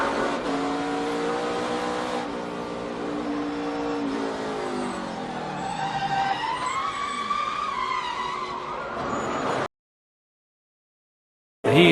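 Onboard a NASCAR race car at Watkins Glen during a crash: a loud engine drone with shifting revs and tire skidding, cutting to sudden silence near the end before the noise briefly returns.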